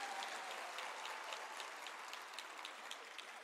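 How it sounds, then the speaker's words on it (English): Steady round of applause from family members at the University of South Africa autumn graduation ceremony, a dense, even patter of many hands clapping, heard at a distance and fairly faint throughout, with no talking. "I'm hearing the round of applause from family members."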